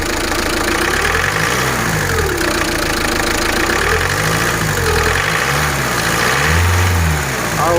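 Car engine with a knocking fault idling loudly up close and revving several times, with a ticking, knocking rattle beneath the rising and falling engine note.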